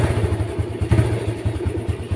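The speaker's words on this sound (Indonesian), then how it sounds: "Nah, terus ini saya lagi manasin mesin guys." Old Yamaha Vega motorcycle engine warming up at idle, a close, steady low putter with a rapid even pulse and slight clatter, running alone without talk.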